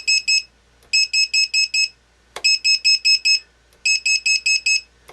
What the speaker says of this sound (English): That buzzer is plenty loud to hear from quite a distance.